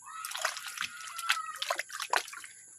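Water splashes and trickles over a found stone as it is washed, a close run of short, irregular sloshes and drips.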